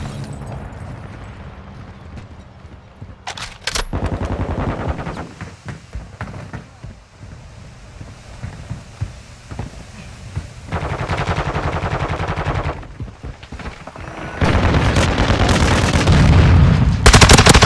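Bursts of automatic gunfire in a Call of Duty Modern Warfare 2 firefight, loud and dense: sustained chattering volleys that come in waves, separated by brief lulls.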